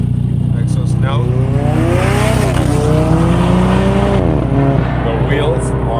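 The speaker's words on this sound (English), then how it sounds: "Exhaust note." Alfa Romeo 4C engine and exhaust note, loud and close, with rising and falling revs, plus a voice talking over it throughout.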